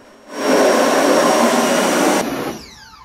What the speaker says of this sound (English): After use, boards must be power washed for reuse.